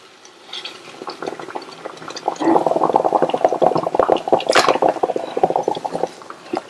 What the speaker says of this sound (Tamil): நல்லா மிக்ஸ் பண்ணி விடணும்.